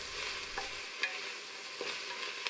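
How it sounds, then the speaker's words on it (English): Onions cook gently in a soup pot for tomato kale soup, giving a soft, steady sizzle with a few faint clinks and scrapes as they are stirred, all heard up close and quiet. "I cooked my onions for about 6 minutes"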